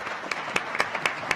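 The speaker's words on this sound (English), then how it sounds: "A big round of applause and thanks for our panelists" Audience applause for panelists after a discussion event, a short burst of moderately distant clapping with several distinct individual claps over a crowd wash.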